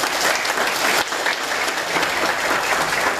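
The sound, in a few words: audience applause at a Buddhist talk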